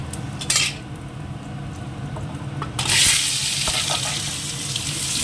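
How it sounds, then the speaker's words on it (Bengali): Potatoes go into hot oil with dried red chillies and cumin in a pan. A brief clatter of utensils comes first, then a loud, steady, close sizzle of frying fills the second half. No one speaks. "দুটো শুকনো লঙ্কা একটুখানি জিরে একটু আলুটা আগে দিয়ে দেবো একটু ভেজে নেবো"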